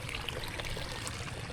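Water pours and streams steadily through a flooded rice paddy ahead of harvest, a close, continuous trickling and rushing with no voices.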